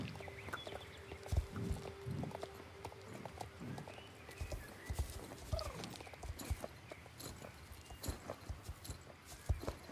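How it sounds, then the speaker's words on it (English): Video game horse hooves clip-clopping at a steady walking pace, soft and a little distant, with faint ambient noise around them. "That is actually a surprisingly pretty horse."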